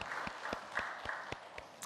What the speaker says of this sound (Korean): 우리 하나님께 영광의 박수 함께 돌리겠습니다